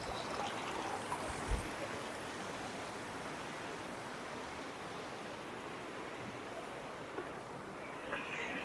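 A mountain stream rushes steadily over rocks on the Kareri Lake trek near Dharamshala, a continuous broadband roar of flowing water heard close and alone, with a few faint knocks.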